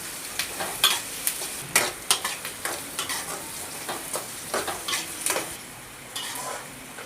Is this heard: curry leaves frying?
yes